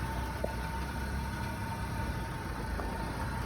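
A car engine idles with a low, even hum, quiet and steady throughout, with no voices.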